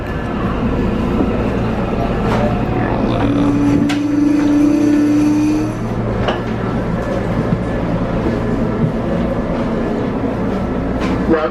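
RTD G Line commuter rail train riding westbound toward Wheat Ridge Ward Station, a continuous interior rumble and hum with faint clicks and rattles, a brief tonal whine partway through, steady and close throughout.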